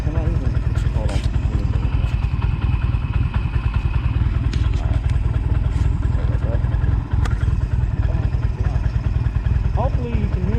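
A Honda Rebel motorcycle engine runs loud and steady nearby, with a continuous low rumble and faint clatter and thumps throughout.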